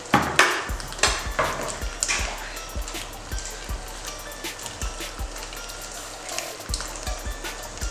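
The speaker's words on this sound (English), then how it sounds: "Now I'm going to go ahead and add my chopped tomato." Chopped tomato goes into a pasta pan and sizzles while a utensil stirs it, with repeated sharp scrapes and clinks against the pan over a soft, steady frying hiss.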